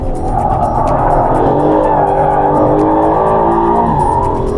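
An Aston Martin Vantage drifts, its tires squealing in a loud continuous wail over a strong engine roar. The sound stays close and sustained throughout.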